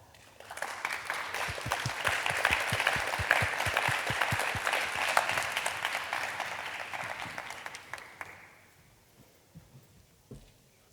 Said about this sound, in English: Please give a warm applause to Henriette Waal.